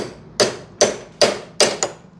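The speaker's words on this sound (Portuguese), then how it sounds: "a gente só dá umas pancadinhas aqui com o martelo" Five light hammer taps knock a part loose from a benchtop drill press, evenly spaced with the last two closer together, close and crisp with no talking.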